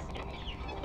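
A chicken gives a brief run of soft, close clucks, moderately quiet, over a short stretch with no talking.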